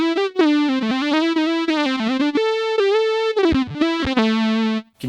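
Guitar run through a Fractal FM9 as a synth with a sine wave layered in, giving smooth sustained harmonic notes that glide and step through a melodic phrase, loud and alone, with a brief dropout near the end.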